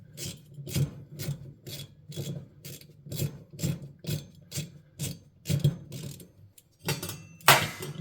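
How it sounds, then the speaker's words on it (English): A nut being turned off by hand from an oven fan blade makes a steady run of a dozen evenly paced, close ratcheting rasps, with a sharper scrape near the end and no talking. "So we're going to turn the nut off."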